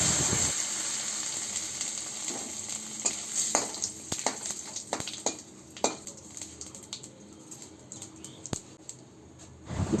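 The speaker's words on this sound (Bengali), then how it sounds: "এখন মাছ ভাজা তেলের মধ্যে দিয়ে দিচ্ছি 5 ফোড়ন," Five-spice seeds, dried chili and bay leaves hit hot fish-frying oil in a pan, giving a loud opening sizzle that fades, then a steady crackle with sharp clinks of a spatula and utensils against the pan.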